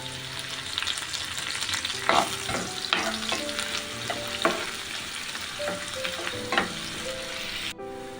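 Chopped onion and bay leaves frying in oil for a Malvani village chicken curry, a constant close sizzle broken by repeated scraping stirs and pan clanks, with a sharp knock near the end and no talk.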